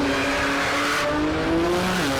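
Exotic car engine with a deep rumble during a street race, droning steadily throughout with a low, sustained tone that shifts pitch slightly near the end, with no talking.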